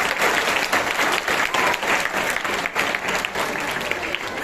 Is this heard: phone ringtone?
no